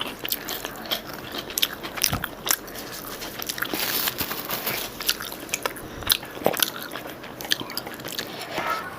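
Someone bites and chews a crunchy salad dressed with green chilli and coriander, a steady run of close, loud crunches and crackles with sharp bite snaps throughout.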